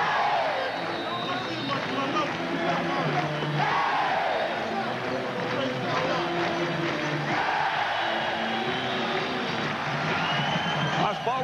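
A stadium crowd at a night CFL game in Hamilton, Edmonton Eskimos at Hamilton Tiger-Cats in 1992, a continuous roar of cheering and babble with whoops, under steady commentator talk.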